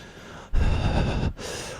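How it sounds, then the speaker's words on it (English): Heavy, ragged breathing of a straitjacketed creature in the video game Lobotomy Corporation, a loud close gasping breath that surges in midway and continues steadily with no talk. "you can hear him breathing heavily"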